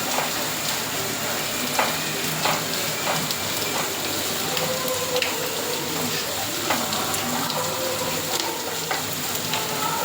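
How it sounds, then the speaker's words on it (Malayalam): Small onions sautéing in a pan, a steady crackling sizzle with occasional stirring scrapes running throughout, no talk over the cooking. "ചെറിയ ഉള്ളി എടുത്തിട്ടുണ്ട് ഞാൻ. ഇത് നന്നായിട്ടൊന്ന് വഴറ്റിയിട്ട്"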